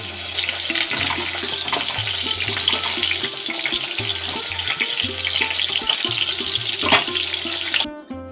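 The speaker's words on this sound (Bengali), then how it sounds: "তেলটা গরম হয়ে গেছে। এইবার আমি একে একে পটলগুলোকে এর মধ্যে দিয়ে দেবো।" Stuffed pointed gourds go one by one into hot mustard oil and fry with a steady, close, loud sizzle that holds for several seconds, over a low humming background and no talk.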